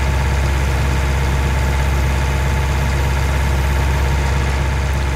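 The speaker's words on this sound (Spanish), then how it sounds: "Este tractor va muy lento." A slow farm tractor in Farming Simulator 20 runs with a steady, loud low engine drone that barely changes throughout, with no talk over it.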